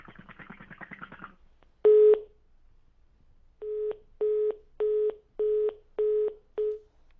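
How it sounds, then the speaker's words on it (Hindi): On a live TV call-in show, a caller's garbled phone voice cuts off, then a single telephone beep sounds, followed after a pause by six evenly spaced beeps of a disconnected line. "चलिए, फोन डिस्कनेक्ट हो गया है।"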